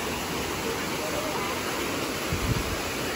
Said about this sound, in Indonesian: itu dia adalah air terjun yang ketujuh